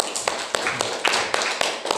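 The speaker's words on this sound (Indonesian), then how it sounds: "Tepuk tangan untuk kelompok 2." A classroom group claps for a student group, giving a short run of sharp, scattered claps from a few hands, close by, with faint voices underneath.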